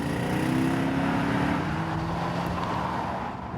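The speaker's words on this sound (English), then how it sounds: "there's a hand-built engine under the bonnet with a fantastic voice" Hand-built AMG engine in a Mercedes-Benz W211 saloon from 2003–2006, a loud steady rumble with a drawn-out rising tone, holding close and continuous before easing slightly at the end, with no talk over it.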